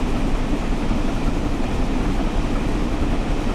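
Train climbing uphill under increasing power in Train Sim World 4, a steady loud rumble and roar of locomotive and wagons with no distinct events, continuous throughout.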